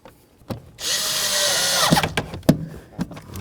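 A power drill drives mounting bolts on a relay bracket of a 1992-2000 Chevy Tahoe during blower motor resistor replacement: one steady whirring burst of about a second, then a few metallic clicks and knocks.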